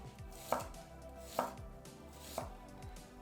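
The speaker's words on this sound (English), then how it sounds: "Next, peel and thinly slice the shallot." Knife thinly slicing a peeled shallot on a cutting board, with three crisp, evenly spaced chops up close over quiet background music.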